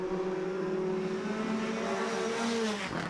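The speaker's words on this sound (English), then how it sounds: "Father and son, Joe and Richard Connolly, put their brand new mark, the Hyundai i20, into 8th." A Hyundai i20 R2 rally car runs on a stage at the Killarney Rally of the Lakes, its engine note holding steady and then shifting as it passes at moderate distance, fairly faint under outdoor noise.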